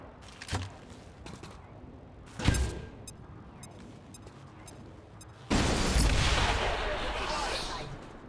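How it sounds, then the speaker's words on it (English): A grenade detonates in XCOM 2: a sharp blast followed by a sustained, loud roar of debris and rumble filling the last few seconds, preceded by a couple of smaller thumps and game noise. "And then we'll open up with a grenade."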